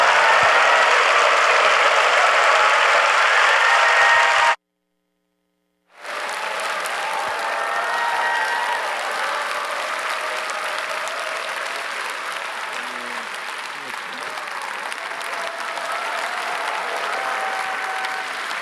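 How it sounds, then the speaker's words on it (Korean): A church congregation applauds loudly at a Korean-language New Year revival service, sustained clapping that cuts out briefly to silence, then resumes at steady strength and continues to the end. "뜨겁게 박수로 맞이해 주시기 바랍니다"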